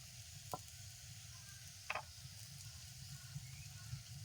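Mustard oil sizzling in a pan just after frying fish, a faint steady hiss with a couple of brief clicks or scrapes over a low background hum.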